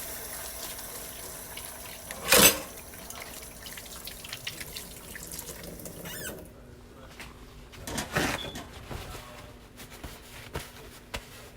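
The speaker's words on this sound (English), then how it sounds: "you want to wash your hands again" Hands being washed under running tap water at a kitchen sink, a steady soft rush with brief splashes and drips, fairly quiet and continuous.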